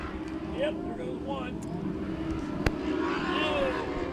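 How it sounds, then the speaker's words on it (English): Race cars at a muddy dirt track main event roar past at a distance, engine noise rising and fading under steady announcer commentary. "They're racing in the mud."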